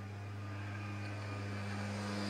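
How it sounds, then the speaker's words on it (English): A lawnmower runs outside with a steady, droning engine hum, continuous and fairly faint throughout, with no talk over it. "That's my lawnmower."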